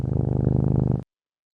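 A cat purrs close and loud, a rapid rhythmic rumble of even pulses lasting about a second before cutting off sharply into silence.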